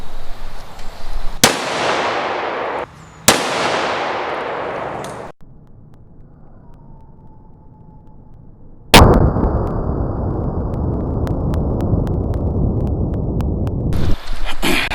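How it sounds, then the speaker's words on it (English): Loud, sharp .223 rifle shots at a vehicle windshield outdoors. Two close cracks come early and a third after a quiet pause, each followed by a lingering broadband roar. "Now I'm gonna shoot to the lower right."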